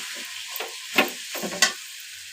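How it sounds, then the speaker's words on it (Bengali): Taro leaves are stirred and tossed in a frying pan, making a few separate scraping, sizzling bursts with quiet gaps between them. "কচু শাকগুলো দিয়ে কিছুক্ষণ আমি ভালোভাবে লাড়াচাড়া করে নিব"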